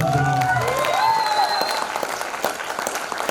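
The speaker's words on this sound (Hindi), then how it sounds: "एक जोरदार ताली चाहिए।" An audience at a motivational speech breaks into loud applause, a dense burst of clapping that swells and then thins out, with a voice briefly carrying over the start.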